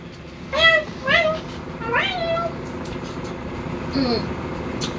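A cat meows several times, two close, clear meows followed by a longer drawn-out one and a softer call, heard over low indoor background noise.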